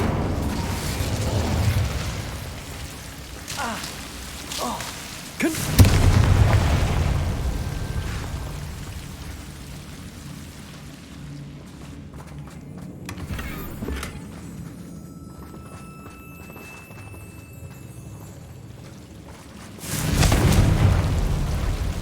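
Incendio fire spells blast in Hogwarts Legacy combat, with a loud whooshing burst near the start and another near the end over a steady low rumble and faint mechanical clicks.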